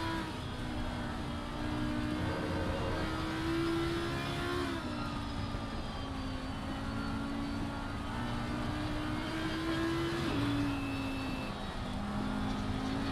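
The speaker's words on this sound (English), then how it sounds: "the Audi just sounds so good, doesn't it? It's just so noisy. It sounds like a proper race car." Audi GT3 race car from Assetto Corsa Competizione wailing steadily through a long stretch, its engine note climbing and dropping with gear changes, loud and continuous with no talk.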